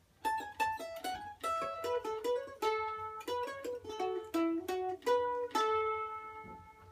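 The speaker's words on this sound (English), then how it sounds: "That last part, that's called a shave and a haircut ending lick." A stringed instrument, likely a banjo, plays a shave and a haircut ending lick: a run of quick picked single notes and short phrases, moderately loud and close, with no talking.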